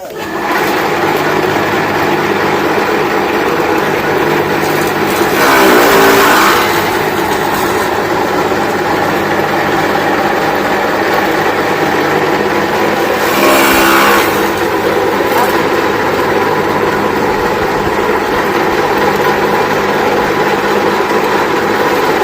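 An engine-driven grass and straw cutting machine runs with a loud, steady drone that holds throughout, surging briefly twice midway, with no voices.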